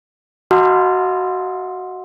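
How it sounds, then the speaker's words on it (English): A single struck supper gong rings out with a sharp metallic attack, then a long, clear, slowly fading tone that sustains alone. "When the gong rang for supper"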